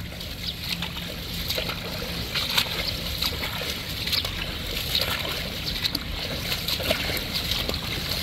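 Rushing floodwater roars steadily throughout, a dense churning wash with small splashes and gurgles scattered through it, loud and continuous from start to finish.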